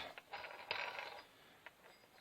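A barn-find chainsaw having its bar and chain pulled off, faint metallic clicks, scrapes and a sharp clack or two, close and quiet.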